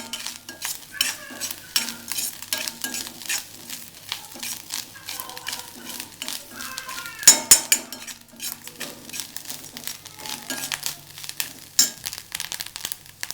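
Ivy gourd (kovakkai) frying in a pan as a spoon stirs it, giving repeated close clinks and scrapes of metal on the pan over a soft sizzle, with a brief louder clatter midway.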